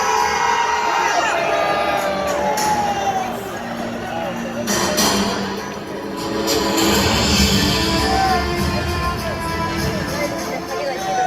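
A large crowd at a candlelight political rally cheering and shouting, with loud sustained crowd noise that dips briefly and swells again and a voice heard over it.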